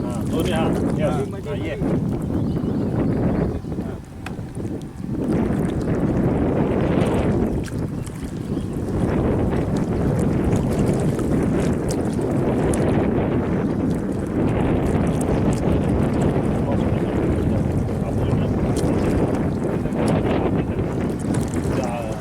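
A Wada Nagar Panchayat robotic boat in Palghar moves across water with a continuous churning, motor-like drone, close and fairly loud, with gusts of wind buffeting the microphone.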